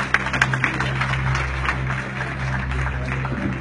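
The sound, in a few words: congregation applauding in church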